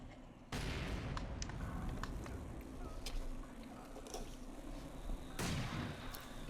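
Mortar and artillery fire in a real-time strategy game with Soviet and Wehrmacht forces: two heavy booming impacts open and close a steady roar of distant battle, scattered sharp reports between them, with commentary talk faintly under it.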